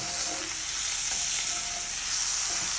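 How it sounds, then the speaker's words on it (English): Fish stirred as it cooks in a pot for Viking-style porridge (grøt), with a loud, continuous hiss of sizzling and faint scraping underneath, no talking. "Now the fish is added, and just kind of stir that around, make sure it doesn't stick to the bottom too much."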